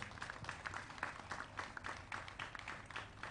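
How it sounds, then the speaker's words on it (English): A faint round of applause rises from a gathered crowd honouring helpers at a live community program, scattered clapping heard at a distance and at low volume. "Can you give them a round of applause?"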